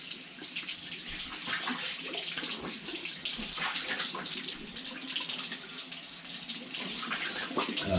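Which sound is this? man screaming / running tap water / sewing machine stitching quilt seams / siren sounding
running tap water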